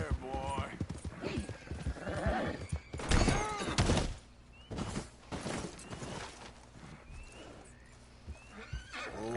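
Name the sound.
horse neighing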